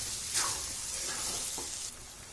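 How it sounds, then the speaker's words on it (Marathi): Pav bhaji vegetables fry in a kadhai while being stirred, giving a steady close sizzle with brief scraping swishes of the spoon. "असे संपूर्ण भाजी टाकायची कढईमध्ये आणि चांगली खालून वर खालून वर अशी चांगली छान मिक्स करायची"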